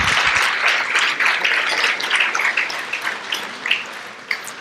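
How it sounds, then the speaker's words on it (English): An audience applauds at a chamber of commerce association meeting and awards event, a burst of many hands clapping that starts full and loud, then thins and fades over a few seconds to scattered claps. "That definitely deserves a round of applause"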